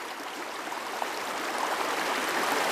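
Fast water rushes steadily along a trout river, a broad, even hiss of flowing current that holds at a constant level with no voices.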